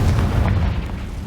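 Confringo fire spell blast in the video game Hogwarts Legacy, a single deep muffled boom with a rumbling tail, loud and heavy in the low end, no voices.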